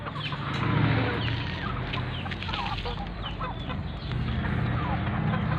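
Young gamefowl stags, Kelso and Pumpkin Sweater roosters, cluck and murmur repeatedly at close range on a farm, with low background rustle and no clear talk.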